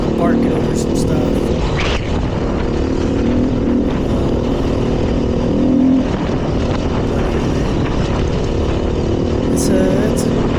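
A 2020 Beta 500 RR-S dirt bike engine drones steadily while being ridden through the desert, heard constantly with wind noise as a rider talks over it.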